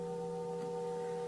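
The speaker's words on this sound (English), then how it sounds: "Starting to breathe with the sound of the Tibetan bowls when this is the sound of the" A Tibetan singing bowl rings with a steady, sustained tone that marks an inhalation during a breathing exercise, a soft, even hum with layered overtones and no speech.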